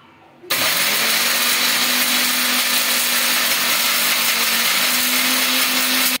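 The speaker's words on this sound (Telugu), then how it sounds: "ఫస్ట్ ఇవి గ్రైండ్ చేసుకున్నాము." A mixer grinder whirs to life after a brief pause and runs at a loud, steady pitch grinding spices to a coarse paste until it cuts off at the end.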